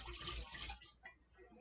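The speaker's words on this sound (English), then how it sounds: "you pour in 2 cups of water" Two cups of water poured from above into a medium-sized pot on a stove give a steady, hissing splash that fills most of the moment, then tapers off into a softer trickle.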